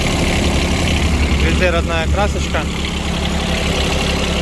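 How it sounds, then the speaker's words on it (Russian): The three-cylinder engine of a Kubota Aste A13 compact tractor idles loudly and evenly the whole time, a steady low throb while someone speaks over it briefly. "Имеем мы даже, конечно же, на 13-м тракторе трехцилиндровый моторчик"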